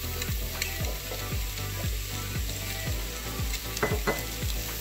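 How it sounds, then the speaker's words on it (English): Shrimp and garlic stirred in a hot frying pan, a steady loud sizzle with repeated scraping strokes of the spoon at a regular rhythm, close by and with no voices. "I'm going to just mix in the garlic like this. While the lovely shrimp is being mixed in"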